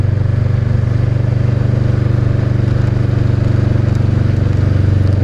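A Honda CB500X motorcycle engine drones steadily and loudly while riding on a steep road, a constant low rhythmic thrum with some rattle and wind, and no talk.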